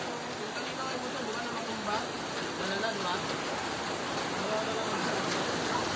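Rain falls during a flood in the Philippines as a steady dense hiss and patter, continuous and fairly close, with people talking faintly beneath it.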